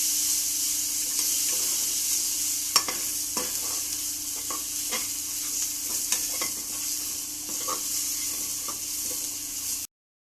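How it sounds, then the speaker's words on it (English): Ginger paste fries in hot oil in a pan with a steady soft sizzle, broken by the repeated scrape and tap of a spoon stirring it, with no voices. "Stir continuously, ginger tends to stick to pan."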